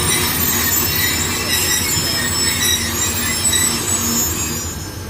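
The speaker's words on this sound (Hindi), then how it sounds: "ये मेहरान एक्सप्रेस जो है ये एक प्राइवेट ट्रेन है" The Mehran Express, a privately run passenger train, rolls past near Bin Qasim toward Karachi, its wheels squealing shrilly and steadily over close, loud rumbling rail noise, with no talking.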